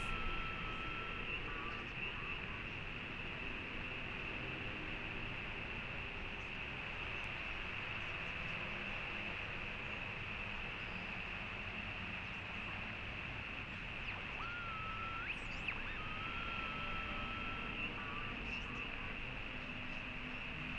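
Radio static hisses steadily while a frequency is slowly tuned in Oxenfree II, with faint wavering tones drifting in and out over the noise for about twenty seconds, quiet and continuous.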